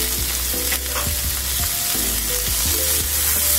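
Tomato frying with garlic and onion in a pan, a steady loud sizzle with a low hum underneath and repeated scraping stirs roughly every half second.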